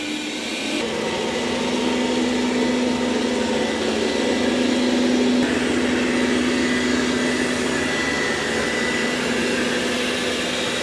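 A Dreame L10s Ultra robot vacuum and mop works over a floor, giving a steady continuous motor whir with a constant tonal hum, close and unbroken, with no voices.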